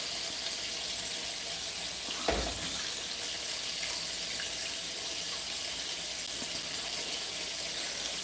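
Beetroots are scrubbed clean under a running tap, a steady hiss of water that goes on throughout, with a single brief knock.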